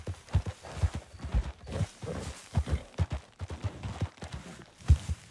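Horse hooves pound at a gallop in Red Dead Redemption 2, riding uphill, a loud rapid irregular thudding with game ambience around it.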